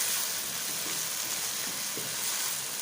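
Fried okra masala with chopped green chillies stirred in a pan, giving a steady, even sizzle and hiss with soft scraping stirs underneath, moderately loud and continuous throughout, no voices.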